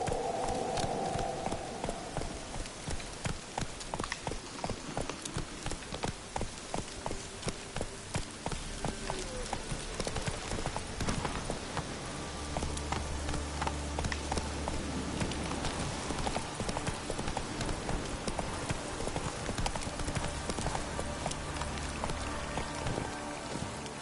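Roach, the horse in The Witcher 3, gallops in a steady drumming rhythm of hoofbeats under a dense wash of rain-like ambience and game music, continuous and moderately loud throughout.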